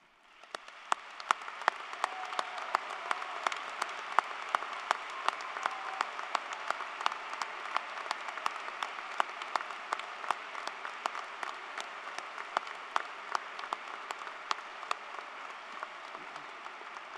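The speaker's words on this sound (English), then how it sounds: "will everyone join me in giving them a round of applause" Steady, dense audience applause at a 2023 high school graduation ceremony, here honoring service members, runs continuously for about seventeen seconds, with sharp individual claps popping out of the crowd sound.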